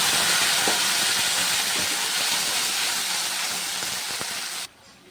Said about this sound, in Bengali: এবার পেস্ট করা মশলাটা দিয়ে দিলাম।